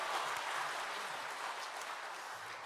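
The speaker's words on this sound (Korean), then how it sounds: "우리 하나님께 영광의 박수 올립시다" Church congregation applause during a Sunday worship service: a dense, steady wash of many hands clapping together throughout, moderately loud and continuous.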